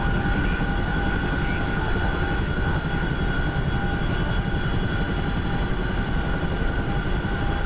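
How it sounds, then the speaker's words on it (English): A Chinook helicopter in the DCS flight simulator drones loudly and steadily throughout, a dense continuous rotor and engine roar with a constant whine layered on top and no pauses. "The Chinook is so loud."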